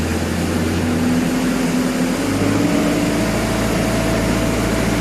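An Antonio Carraro Tony TR10900 tractor engine revs up steadily, its low drone rising in pitch as RPM climbs over about five seconds, loud and continuous with no talking.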